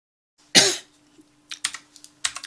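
Computer keyboard keys click in short, quick bursts during CAD modelling, with one louder thump first and then a few clustered taps and key presses, close and fairly quiet.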